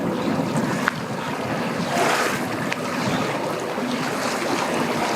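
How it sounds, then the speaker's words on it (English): Bass boat motoring past on a very windy Lake Tavares, its engine drone buried under heavy wind buffeting the microphone and choppy water sounds, steady throughout with no speech. "Bass boat's coming around."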